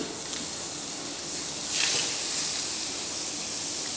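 Butter sizzling in a pan over low heat as spaghetti is stir-fried for a seafood sauce dish, a steady, close hiss running evenly throughout.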